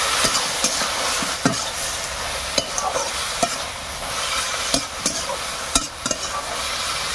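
Vegetables sizzle in a pan in a village kitchen in the Sundarbans while a utensil stirs and scrapes them, giving sharp, irregular clinks and knocks over a steady frying hiss, close by with no talking.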